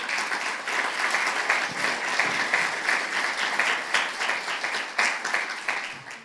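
A live podcast audience at a summit gives sustained, lively applause, a dense flutter of many hands with slight swells, heard alone with no talking.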